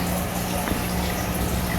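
An aquarium filter pumps water from the bottom of the tank, giving a steady, continuous whoosh and gurgle at close range with no voices over it.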